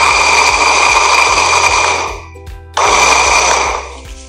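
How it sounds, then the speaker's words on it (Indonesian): A blender grinding noni fruit powder runs loudly with a steady whirring motor, stops briefly, then starts again and whirs on before winding down. "Selanjutnya kita blender."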